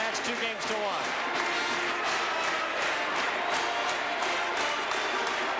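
Arena crowd at a 1996 NCAA volleyball regional final, Nebraska against Penn State, roaring and cheering steadily with loud, dense noise throughout while a voice talks over it.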